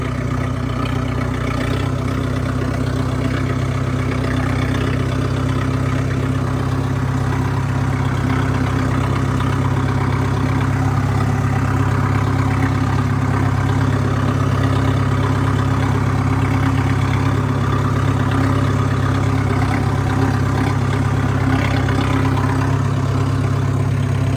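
A tractor's heavy diesel engine idles steadily throughout, a deep constant rumble with no voices and no change in pace.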